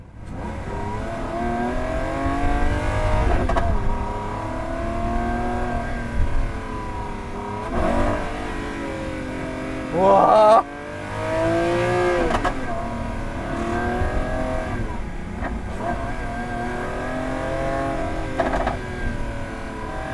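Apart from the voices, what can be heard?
Lamborghini Aventador Ultimae LP780-4 roadster V12 engine revving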